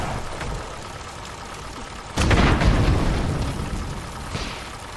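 Floating bombs burst against an enemy airship in the game Airships: a loud, broad boom hits about two seconds in and rumbles away slowly, with a smaller pop near the end over a steady engine drone.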